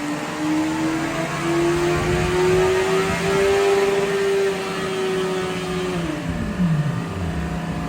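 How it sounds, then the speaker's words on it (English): Nissan 180SX engine on a dyno, revving in long sustained pulls that climb steadily in pitch, then the revs drop away sharply near the end; loud and continuous with no talk. "Donnie's over there having fun on the dyno."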